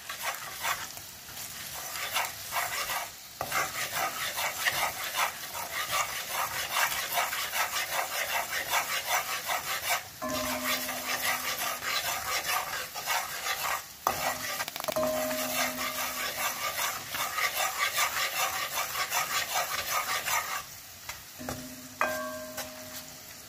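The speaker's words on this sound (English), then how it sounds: "I should burn the curry first now." Curry powder sizzles and fries in a hot pot as it is stirred, a steady crackling hiss with scraping stir strokes, close and fairly constant, with a few brief clinks of the pot.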